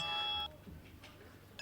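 A telephone rings with a short, bright electronic tone that cuts off after half a second, leaving quiet room noise and a faint voice.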